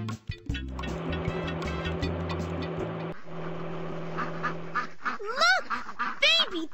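Baby ducks quack in a Dora the Explorer video game, a few bright, sweeping calls near the end following a stretch of busy, layered game music, close and clear.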